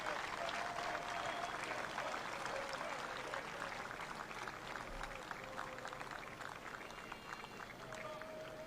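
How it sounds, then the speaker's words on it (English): Crowd clapping at an outdoor Trump rally in Butler, Pennsylvania, a steady distant wash of many hands that holds evenly throughout, with faint crowd murmur beneath. "They're clapping"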